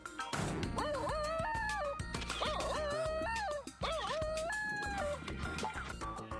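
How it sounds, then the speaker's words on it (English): A Basenji gives a series of warbling, yodel-like howls with rising and falling pitch, loud and close, with short breaks between calls. "instead of getting a barking sound like other dogs, you get a yodel or a baru"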